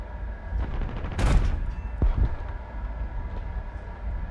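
A missile streaks past in the War Thunder flight simulator during a Hungarian MiG-15bis sortie, a brief rushing whoosh and sharp cracks heard over the steady low rumble of the jet's engine.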